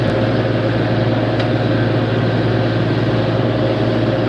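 A farm tractor idles in Michigan, its engine giving a loud, steady, unbroken low drone with no voices over it.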